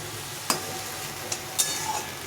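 Mustard greens with potato, eggplant and radish are stirred in a pan, giving a soft low sizzle broken by three or four sharp spatula scrapes and knocks, close by, with no talking.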